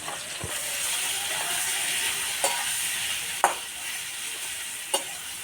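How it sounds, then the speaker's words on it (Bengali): Chicken frying in a pan with fried onions and chilli powder, a steady broad sizzle with a few sharp scrape-like clicks from stirring, close and fairly loud, no talking. "পেঁয়াজটা ভাজা হয়ে গেছে, চিকেনটা আমি দিয়ে দেবো।"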